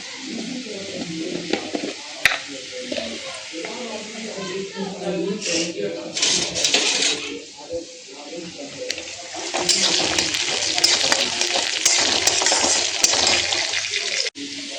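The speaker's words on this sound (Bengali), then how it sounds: "এদিকে পেঁয়াজ ভাজা হইতে হইতে আমি এদিকে গরম মশলা নিয়ে নেব" Onions frying in a pan with garam masala stirred in for a Bengali summer lunch, a steady sizzle with stirring scrapes that swells louder toward the end, under a person talking.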